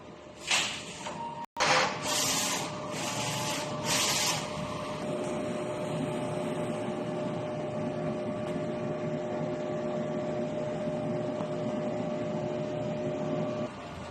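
A DTF printer runs a nozzle test after head cleaning. A few quick mechanical clicks and carriage slides are followed by a steady, moderate motor hum that drones on alone.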